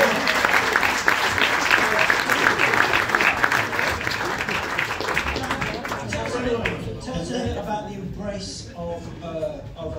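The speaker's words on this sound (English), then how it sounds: "Round of applause." A concert audience at the Midlands Arts Centre in Birmingham applauds, a loud, dense burst of clapping that gradually thins into scattered claps and a few voices toward the end.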